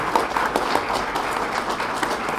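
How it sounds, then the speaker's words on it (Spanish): An audience gives sustained applause for the new board of the Puerto Rico hospital association at its swearing-in ceremony, with many hands clapping steadily in a large room. "vamos a darle un fuerte aplauso a ese equipo de trabajo que tenemos para este año"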